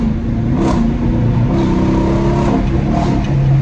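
A loud car engine revs and roars close by at Jacksonville's legal pit, rising and falling in pitch across a few seconds.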